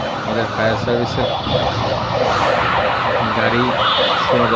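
Fire service siren wailing in rapid up-and-down cycles near a burning passenger bus on a road, loud and continuous beneath a person talking.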